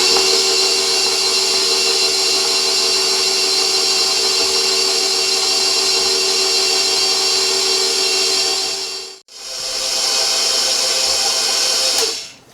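A stand mixer runs steadily on low speed through almond biscotti dough made with salt and baking powder, a loud continuous motor whine that cuts out briefly, restarts, then stops at the end.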